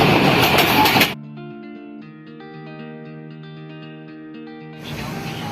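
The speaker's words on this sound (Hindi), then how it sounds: "ट्रेन है" A train on a rail journey from Multan toward Murree makes a loud rushing rumble that cuts to a steady multi-note tonal chord, then the rushing noise returns.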